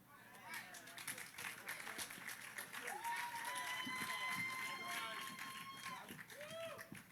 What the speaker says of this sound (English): Let's give a round of applause for our young leader who is educating us on the importance of opioids